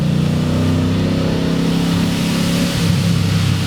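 Supercharged 400 hp Lincoln Town Car engine running close up, a loud continuous low rumble with a slight swell near the end and no voices.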